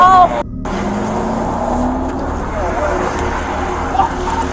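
A stolen patrol car drives off, a steady, loud engine and road rumble running throughout with a brief dropout near the start and no voices.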